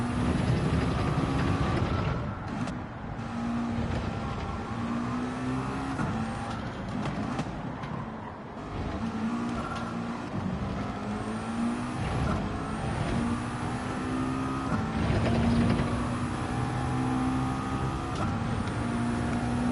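A race car engine in Gran Turismo 7 during a Manufacturers Cup race, droning steadily with rising revs and short upshifts, tone dipping and climbing through gear changes, close and continuous without pause.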